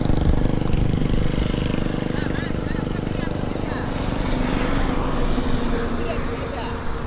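A small petrol motorbike engine runs steadily and loud close by as the rider turns off the road onto rough ground, a constant droning rumble with a voice talking over it.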